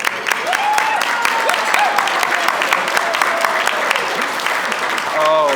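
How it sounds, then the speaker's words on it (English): Wedding guests applaud in a sustained round of clapping that fills the room, steady and fairly loud, with a few voices calling out over it and a person starting to speak near the end. "let's give Chris's mom, Rose Wilkinson, a big round of applause here."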